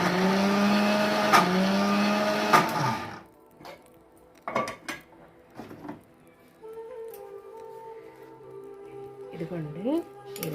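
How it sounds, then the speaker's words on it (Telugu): A mixer grinder whirs loudly for a few seconds while grinding soaked urad dal into thick batter for fish garelu, then cuts off, followed by clinks and a person talking. "చక్కగా ఇలా వేసేసుకొని కొంచెం కొంచెం మిక్సీ పట్టుకోండి."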